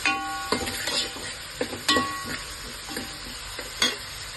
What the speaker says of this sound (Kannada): ಈರುಳ್ಳಿ ಬಾಡಿಸ್ಕೋಬೇಕಾದ್ರೆ ಸ್ವಲ್ಪ ಉಪ್ಪು ಹಾಕಿದ್ರೆ ಈರುಳ್ಳಿ ಬೇಗನೆ ಫ್ರೈ ಆಗುತ್ತೆ